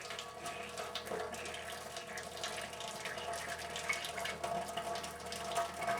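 Water rushes steadily through the tubing of a Vapor Brothers vaporizer whip being rinsed, a continuous hissing flow like a running tap that stays even throughout.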